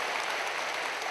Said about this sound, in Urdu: آپ کی بھرپور تالیوں میں لیڈیز اینڈ جینٹلمین